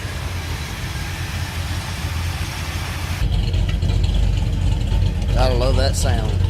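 A 1978 Ford F100 Ranger XLT with a 351W V8 idles steadily with a deep, continuous rumble. A voice speaks briefly over it near the end.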